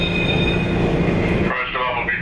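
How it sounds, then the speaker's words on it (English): Steady rumble and rolling noise from inside a passenger train riding toward Boston, loud and continuous, with a shift in the sound partway through as the ride carries on. "now then I'm going to take the train all the way down"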